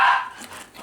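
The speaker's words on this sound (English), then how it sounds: "Sorry about my dogs." Dogs barking indoors during a mushroom foraging and cooking session: one short, sharp, fairly close bark at the start that quickly fades into quiet room sound.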